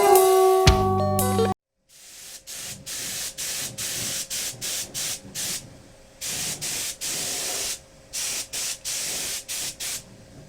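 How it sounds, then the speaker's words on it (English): A Dupli-Color clear coat aerosol can sprays onto a guitar body in a run of short, close hissing bursts with brief gaps between them, following a moment of other noise at the start. "I'm going to clear coat over it so it doesn't peel off"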